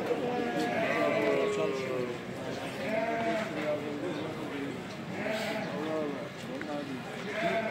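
Woolly lambs bleat continuously in overlapping, wavering cries at a busy livestock market in Kadirli, with many animals calling near and far and a steady crowd murmur underneath.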